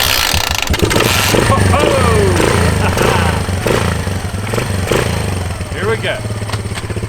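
A Honda Fat Cat big-tire dirt bike, left sitting for 15 years, runs close by with a loud, steady engine drone and a few revs rising and falling, while a voice speaks briefly over it.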